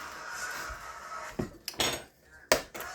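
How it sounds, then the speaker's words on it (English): Salmon ball mixture with pepper stirred in a bowl using a utensil, giving a few clinking and scraping knocks against the bowl, close and moderately loud, with quiet gaps between them. "and we're just going to mix it together"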